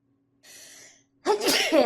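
A single loud, close sneeze from a player during a Roadside Research gaming session, bursting out after a soft, faint tone and a moment of quiet.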